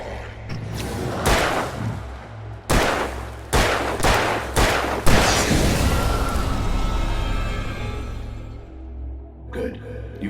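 Gunfire in Alan Wake Remastered: a string of loud, close shots in uneven bursts, each with a heavy boom and a long rumbling tail, then a final pair of faint shots after a lull.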